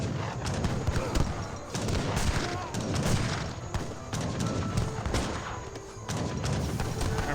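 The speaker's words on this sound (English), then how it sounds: "Pair of falconets, or more than pair of falconets, fire." Falconets and musketeers in Age of Empires 3 fire volleys, a dense run of sharp cracks and booming thumps with scattered overlapping shots throughout, while a commentator talks over the battle.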